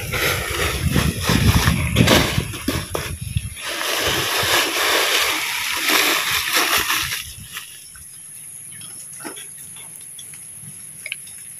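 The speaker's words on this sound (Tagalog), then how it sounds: "Lakas ng tubig o, kabilaan." Strong water flowing down from the mountain and splashing at a rural nipa hut, a loud churning gush for several seconds that then drops to a quieter trickle with scattered drips.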